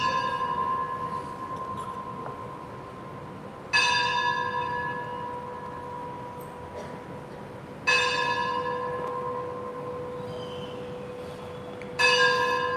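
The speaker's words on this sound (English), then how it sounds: "Can't compete with the bell." A church bell tolls three evenly spaced strikes, each ringing out and slowly decaying into a lingering hum, heard clearly with no talk.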